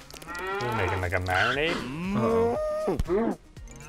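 A cow moos in a long, loud, drawn-out call, rising and falling in pitch, heard close up in a Lego cooking animation; a voice speaks over the end.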